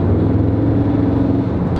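A new Audi S3 engine hums with a low, steady purr, loud and close, holding an even drone without revving and with no voices over it.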